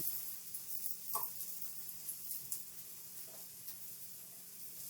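Dal tikki patties for an aloo burger frying in a pan, a faint, steady sizzle with occasional soft clicks and scrapes of a utensil.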